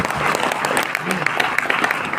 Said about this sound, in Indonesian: Beri tepuk tangan buat saya.